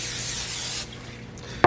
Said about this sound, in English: I don't want to add too much oil to this, so I'm just going to give this a spray